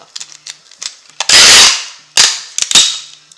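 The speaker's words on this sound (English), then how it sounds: "I'm taking just regular packing tape, pulling off the strip. It's so noisy" Several loud, ripping bursts of tape peeling off a roll, short crackly pulls mixed with one longer tearing stretch, close and harsh.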